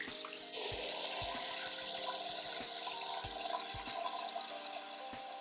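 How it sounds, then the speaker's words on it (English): Warm water runs steadily from a bathroom tap into a sink while a face is rinsed clean of makeup, a continuous close hiss with small splashes and a few low knocks. "Wash it off with warm water."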